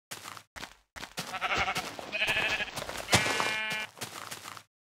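Sheep in a video game bleat several times in quick succession, loud and near, with other game sound effects chiming and crackling around them.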